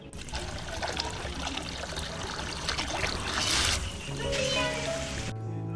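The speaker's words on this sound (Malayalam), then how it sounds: "കിളികൾക്ക് വെള്ളം ഒഴിച്ചു കൊടുക്കാനുള്ള പോട്ട് കെട്ടിക്കൊടുത്ത് വെള്ളം" Water poured into a pot set out for birds in a home garden, a steady trickling pour running several seconds, close and fairly loud, ending abruptly.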